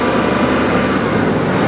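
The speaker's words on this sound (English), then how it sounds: "let me rev it up." A 2006 Ford E-350 cargo refrigerator van engine revving steadily and loudly up close, a dense sustained roar with a high whine on top and no talking.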